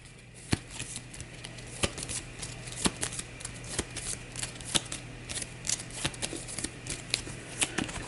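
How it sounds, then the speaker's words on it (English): Playing cards for a Path to Carcosa board game session are shuffled in a rapid run of crisp riffling bursts and soft clicks, close and fairly quiet, with no talk. "So we'll shuffle these."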